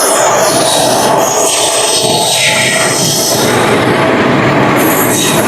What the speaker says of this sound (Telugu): ఇప్పుడు వచ్చింది మామ మన ట్రైన్ 20 minutes లేట్ గా వచ్చింది.